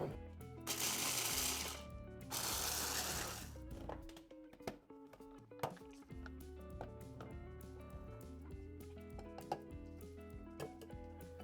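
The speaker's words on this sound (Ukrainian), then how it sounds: "Відправляємо фісташку у блендер і утворюємо крихту." Two short bursts of a blender whirring hard as it grinds pistachios into crumbs, a couple of seconds each, followed by quiet music with faint clicks and taps.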